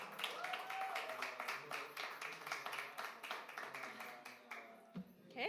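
Audience applause breaks out after a speaker is introduced at a COP28 climate event: steady, dense clapping from a crowd, moderately loud and sustained for several seconds.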